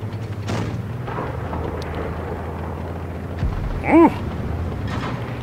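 A tank cannon fires in World of Tanks Blitz, a single heavy boom with a ringing tail near the end, over a low, steady engine rumble.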